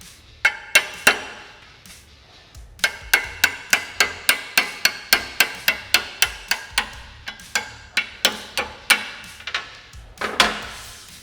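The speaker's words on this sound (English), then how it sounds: "I'm going to grab a 10mm socket and just tap the sleeve right out of the arm." A 10mm socket struck with a hammer to tap a sleeve out of a Polaris Ranger rear A-arm, a long series of close, sharp metallic knocks at a steady rhythm of roughly two per second.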